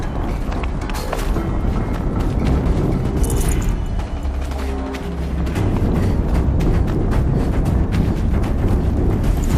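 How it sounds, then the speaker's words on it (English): Heavy rumbling blasts from a Horizon Zero Dawn battle fill the scene, a continuous deep boom with crackling debris that eases slightly midway and then builds again, loud and close with no talking. "An explosion."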